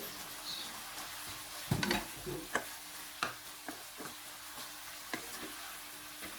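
Sliced onion and two-colour spiky chilies get stir-fried together with pork neck in a pan, giving a soft sizzle broken by scattered scraping and tapping clicks from a spatula, fairly quiet and close.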